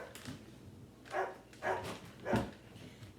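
A dog barks three times at a moderate distance, each bark spaced about half a second apart, fairly quiet against a low background hum.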